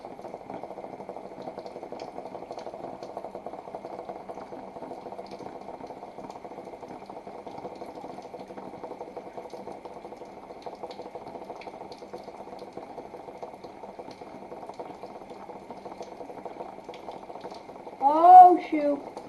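Heavy rain pours steadily onto a cardboard box fort, a constant dense hiss and patter heard from inside, moderately loud, with a short burst of voice near the end.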